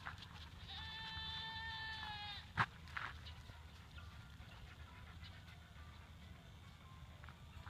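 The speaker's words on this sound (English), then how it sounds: "that's one of the little goats." Small young goats bleat in a series of thin, wavering cries over a low background hum, followed by a sharp knock and quieter farmyard rustling.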